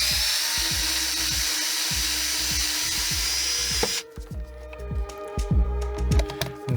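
A power driver backs screws out of the outer shell cover of an electric unicycle, whining steadily with a rapid pulsing rattle, then stops and gives way to close clicks and handling noises of the shell and screws.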